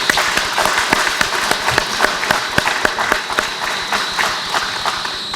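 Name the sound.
audience applause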